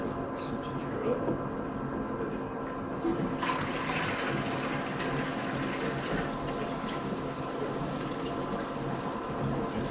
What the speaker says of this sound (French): Maintenant le réservoir commence à se remplir d'eau et vous avez l'air qui s'échappe par ce petit orifice.